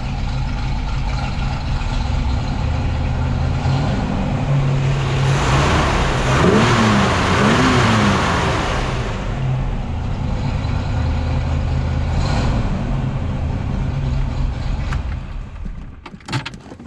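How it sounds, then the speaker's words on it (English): A 1960 Chevrolet Corvette convertible's engine, warming up, revs loudly in a few rising and falling pulls over a steady idle before the sound drops away near the end. "Rev it up a little bit here now that it's getting a little bit warmer."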